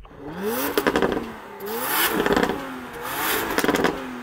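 A Porsche Macan GTS with a 2.9 litre V6 revs up three times in quick succession, each rise climbing and falling sharply, heard close and alone.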